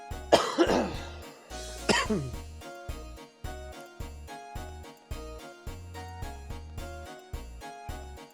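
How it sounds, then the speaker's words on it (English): Coughing and throat clearing from a player of Final Fantasy VIII, two rough bursts near the start heard over steady, rhythmic game music that continues alone afterward. "I don't know why my cough has just like come back with a vengeance all of a sudden."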